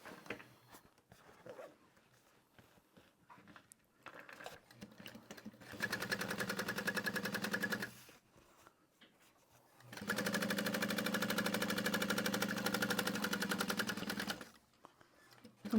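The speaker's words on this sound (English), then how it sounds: "I'm only sewing from my stabilizer to my stabilizer" A sewing machine stitches a tote bag in two sustained bursts of rapid, steady whirring, separated by quieter pauses with light handling noise.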